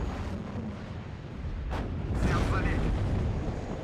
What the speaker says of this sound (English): the grenade launcher gets on target